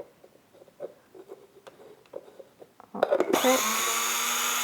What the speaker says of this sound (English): I have to use this poppy seeds that is just as it's from nature in my coffee mill, and I have to grind it.